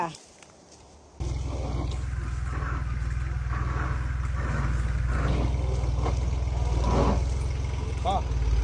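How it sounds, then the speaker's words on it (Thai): A 31-horsepower farm tractor runs close by, its engine starting with a steady, loud diesel throb that keeps going as the tractor is brought over to a water pump, while people talk over it. "เอารถไถมา"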